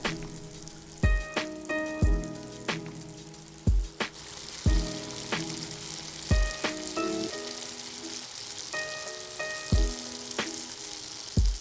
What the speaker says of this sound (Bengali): এবার একই তেলে দিয়ে দিচ্ছি কেটে রাখা দুটি আলু। আলুগুলিকেও আমি একই রকমভাবে ভেজে নেব।